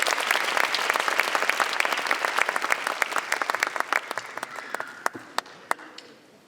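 Big audience applause at a university graduation ceremony in a hall, dense clapping from many people that gradually thins into scattered individual claps before fading out.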